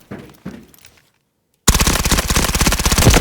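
Rapid automatic gunfire from a machine gun on a video game firing range, a loud continuous burst of closely spaced shots that starts suddenly after a quiet gap with a few faint earlier sounds.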